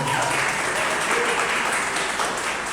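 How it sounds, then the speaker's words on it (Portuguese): A church congregation claps for the pastor at a worship service, a dense, steady wash of applause filling the room from start to finish. "As palmas para o Senhor."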